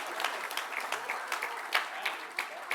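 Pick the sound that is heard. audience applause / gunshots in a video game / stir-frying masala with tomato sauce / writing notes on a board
audience applause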